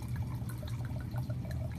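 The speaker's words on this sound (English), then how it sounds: "So the first glass is going to get poured right now" Wine pours into a glass as the first glass of a bottle is served, a soft continuous liquid trickle lasting a couple of seconds, faint and close with a low hum beneath.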